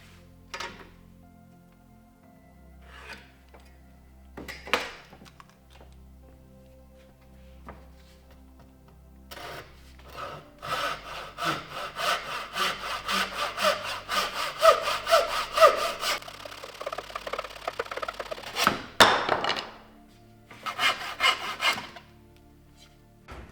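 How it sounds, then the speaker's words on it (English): Hand saw cutting a wooden offcut in a boat-building workshop: after a few scattered knocks and handling sounds, a run of quick, rhythmic rasping strokes, close and fairly loud, pausing briefly and then resuming for a few final strokes. "So I'm just going to cut a piece that will be wide enough to span those two legs."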